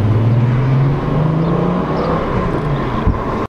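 Volkswagen Jetta GTI-style car driving on a road trip, a loud, steady engine drone and road roar from inside the cabin with a slight rise in pitch, no talking.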